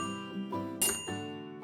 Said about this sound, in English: It's a toaster.